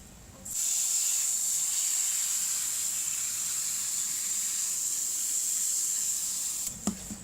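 Spray nozzle washing grime off a Mitsubishi Eclipse GSX radiator, a loud, steady hiss starting abruptly after a short pause and running unbroken, then cutting off with a couple of knocks at the end.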